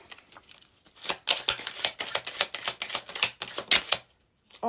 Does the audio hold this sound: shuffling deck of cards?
yes